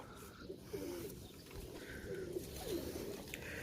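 Pigeons at Shahdara pigeon market in Lahore give a few soft, low cooing calls, quiet and close, over a faint background of market noise.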